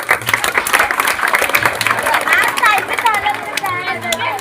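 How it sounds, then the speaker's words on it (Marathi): Students at a school National Mathematics Day certificate ceremony receive a burst of dense clapping from a nearby audience, sustained for several seconds alongside chatter and voices. "ह्या सर्व विद्यार्थ्यांसाठी एकदा टाळ्या वाजवा सगळे"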